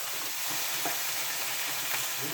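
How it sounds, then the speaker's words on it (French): Onions frying and being stirred in a pan, a steady dense hiss of sizzling fat with a couple of faint scraping strokes on top, close and even throughout. "mes oignons qui commencent à revenir. Pour un petit peu remuer tout ça"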